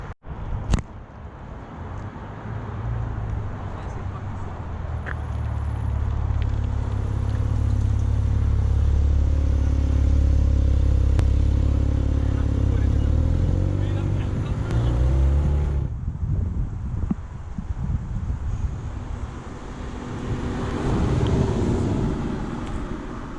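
BMW M4 followed by a Ferrari 488 supercar arriving at a rally on a country estate, a loud steady engine drone building and holding for about fifteen seconds before easing off into quieter rumbling.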